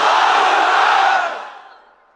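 A large crowd in a pandal at an Islamic sermon gathering shouts the takbir in unison. It is one loud, sustained roar that holds for over a second, then fades and trails off.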